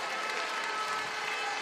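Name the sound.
crowd applause at a basketball game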